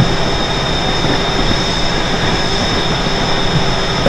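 A New Jersey Transit train rumbles along the Northeast Corridor toward New York Penn Station, a loud, steady rolling roar with a constant high whine, heard from on board without talk.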